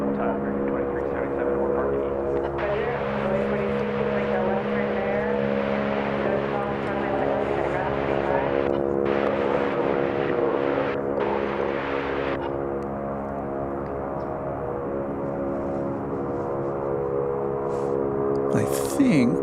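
An American Airlines jet at DFW Airport produces a steady, droning engine roar with a tonal hum, moderately loud and continuous at a distance, and its pitch shifts slightly toward the end.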